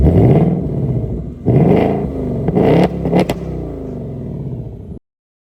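A 2024 Ford Mustang GT convertible's 500-horsepower V8 is remote-started from the key with nobody inside, giving loud, close revs that surge, briefly dip and rumble again before cutting off.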